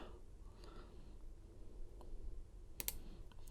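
A Lishi HU101 pick works the wafers of a Ford 10-cut lock, giving faint, sparse small clicks against a quiet background, with one sharper tick near the end.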